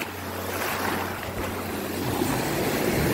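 Sea waves wash along the Sardinian coast with a continuous broad rushing surf, fairly loud and close, mixed with wind buffeting the microphone and no talk.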